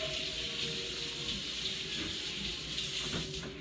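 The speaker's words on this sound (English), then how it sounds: "Let me rinse this just a little bit." A kitchen tap runs steadily, rinsing a washable silicone kitchen tool, a broad continuous hiss of water with small splashing shifts toward the end.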